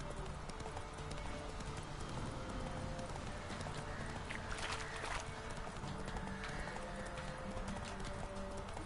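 Galloping horse hooves in The Witcher 3 video game, a fast continuous clip-clop rhythm held steadily at moderate level over a constant game soundscape, with a brief burst of louder noise midway.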